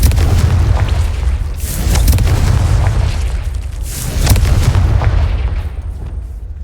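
Confringo spell blasts in Hogwarts Legacy, a series of deep booming explosions rolling out one after another, loud and close, each swelling and fading into rumbling tails with no talk over them.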